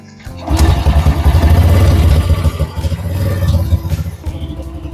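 A classic motorcycle engine idles and runs smoothly and steadily close by, a continuous low rumble for a few seconds with no voices.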